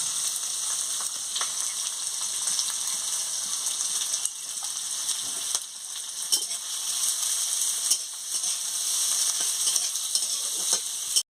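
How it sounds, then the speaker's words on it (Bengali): Steady, loud sizzling of food frying in hot oil, with a dense crackling hiss continuing throughout and occasional sharper pops and stirring clicks. "ওইটাকে আমি ভেজে নিচ্ছি। তেল গরম হয়ে গেছে, এবারে দিয়ে দিচ্ছি।"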